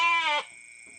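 A lamb gives a single short, high-pitched bleat close by, cutting off after about half a second into quiet.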